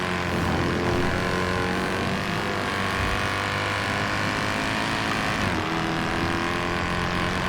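A Porsche engine in the GTA roleplay game NoPixel drones loud and steady as the car accelerates, with a brief dip and change in pitch near the end like a gear shift.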